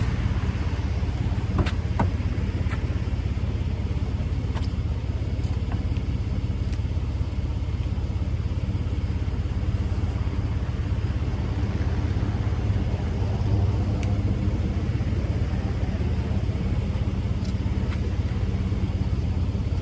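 A work truck's engine idles steadily for the whole stretch, a continuous low rumble close by with no talking over it.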